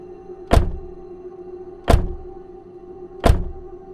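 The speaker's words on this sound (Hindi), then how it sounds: "श्मशान के पीछे वाले जंगल से एक साथ दर्जनों लोगों के दरवाजा खटखटाने की आवाज गूंजने लगी" Three heavy, evenly spaced knocks on a wooden door as a horror story sound effect, deep thuds ringing out over a low, eerie background hum.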